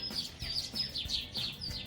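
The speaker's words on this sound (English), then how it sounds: "You might hear some birds because I'm outside" Small songbirds chirp outdoors near a backyard bird feeder, a bright repeating tweet coming in quick bursts about every third of a second, moderately close and clear with no talking.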